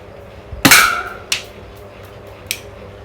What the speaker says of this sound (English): So we are going to shoot that can.